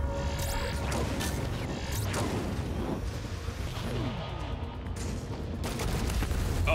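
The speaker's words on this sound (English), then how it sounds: "The refire time on this gun is killing me." Space-combat gunfire in the video game Chorus, a rapid fusillade of mechanical shots and booms layered over a loud, continuous engine rumble, with no speech.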